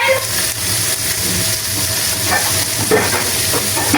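A roast browns and caramelizes in a hot pan, giving a steady, dense sizzle and crackle, with a few faint clinks or stirring touches. No voices.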